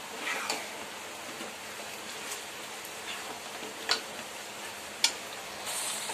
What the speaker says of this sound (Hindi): जो जीरा और गरम मसाले का पाउडर है वो भी डाल देंगे और इसको अच्छे से भून लेंगे हाई फ्लेम पर।